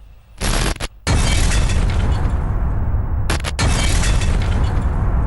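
In Pulwama's Rajpura sector, troops blow up a car loaded with about 40 kg of explosives, producing a sudden loud blast. A brief cut follows, then a sustained roaring rumble with another sharp surge partway through.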